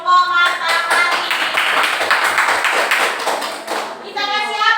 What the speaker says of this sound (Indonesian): Oke, tepuk tangan buat teman kita kelompok Matahari.